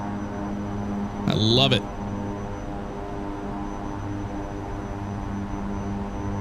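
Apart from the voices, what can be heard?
aircraft engine at takeoff power in X-Plane 10 video game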